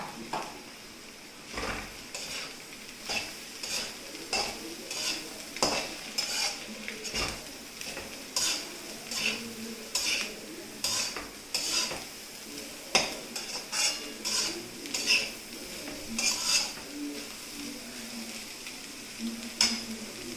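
Shredded cabbage stir-fries in a pan for chicken fried rice: a busy run of sharp spatula clacks and scrapes against the metal over a constant sizzle, close up and with no voices.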